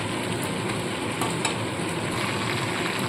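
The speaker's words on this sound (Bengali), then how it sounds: "দেখুন অল্প পরিমাণে জল দিচ্ছি" Water hits a hot pan of frying chilli soya chunks, raising a loud, dense hiss and sizzle that holds steady for the whole stretch, with light stirring scrapes.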